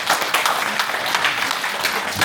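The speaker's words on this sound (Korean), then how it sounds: "박수 한번 쳐주세요" Applause at a general meeting, a dense steady clapping from a gathered audience that holds at an even level for a couple of seconds without talk.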